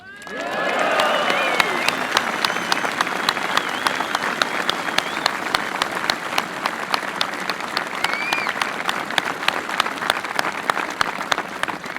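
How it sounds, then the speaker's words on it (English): A large crowd applauds Martin McGuinness at a memorial speech, sustained dense clapping swelling in quickly and holding strong, with faint cheering mixed in. "We applaud Martin McGuinness"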